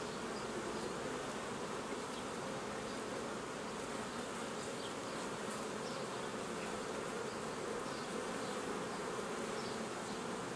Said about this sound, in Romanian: Urmăresc să văd dacă s-a băgat albinuț între rame, să o fugărez de acolo.